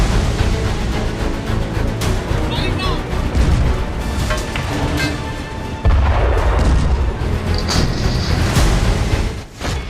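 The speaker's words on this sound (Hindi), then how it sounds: "M777 अल्ट्रालाइट होवित्जर तोप।" Booming artillery blasts attributed to an M777 ultralight howitzer at the China border in Ladakh, several deep heavy reports over rumbling background, one especially strong boom near the middle, with a voice talking over parts of it.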